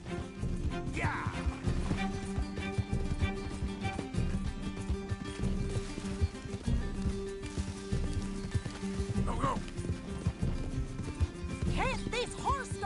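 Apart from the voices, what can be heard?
horse galloping in Red Dead Redemption 2 video game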